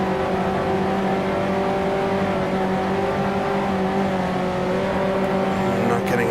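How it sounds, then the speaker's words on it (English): Race car engine at Spa circuit, droning loudly and steadily as it runs through the gears approaching La Source, with a sustained tonal whine and no pauses. "now we'll go through the gears, brake as late as we can for La Source"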